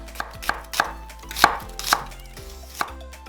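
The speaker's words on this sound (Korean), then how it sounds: "양파 한 개를 살짝 굵게 채 썰고" A knife cuts one onion into thick strips on a cutting board, making sharp, close chopping thuds in a steady, unhurried rhythm of about seven strokes, with no talking.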